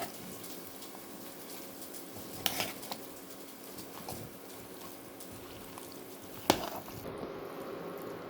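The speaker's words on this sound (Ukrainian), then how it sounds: "Все добре перемішуємо. І ставимо на плиту." Zucchini stew with vinegar being stirred in a pot: a few faint utensil knocks and scrapes against the pot, the clearest two spaced several seconds apart, over a low, quiet background.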